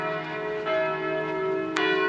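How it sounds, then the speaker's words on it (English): Church bells ringing in Füssen from a monastery or castle, a steady resonant tolling with sustained overtones and a fresh strike near the end, clear and moderately distant. "It's lovely to hear the bells ringing. Must be the monastery or the castle."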